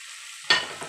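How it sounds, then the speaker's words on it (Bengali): Tomatoes dropped into a pan of lightly browned onions frying in oil, a sudden burst of sizzling after a quieter hiss, then settling into a steady crackle. "হালকা ভাজা হয়েছে, একদমই হালকা। তো টমেটোগুলো দিয়ে দেবো।"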